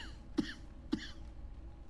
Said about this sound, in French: Merci pour cette petite toux que tu m'as fait, Léon.